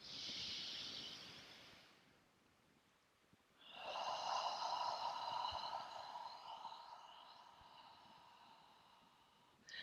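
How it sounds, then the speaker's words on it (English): Deep exhalations during yoga in a forest: a short breathy hiss, a pause, then a long, steady open-mouthed out-breath, soft and close. "Open your mouth, let the whole breath go."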